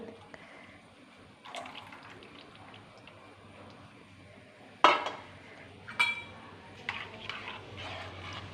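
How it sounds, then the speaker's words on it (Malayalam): Buttermilk is poured into a simple Kerala moru curry, a faint trickle with a few sharp clinks of utensil on pot. Soft kitchen noise sits underneath. "മോരാണ് ഒഴിക്കുന്നത്."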